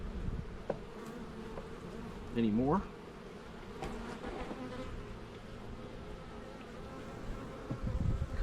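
Honey bees buzz steadily at an early-spring hive during an apiary inspection, a close, continuous drone with a few louder passes as bees fly near, while a person speaks briefly.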